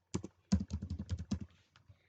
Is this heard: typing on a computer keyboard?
yes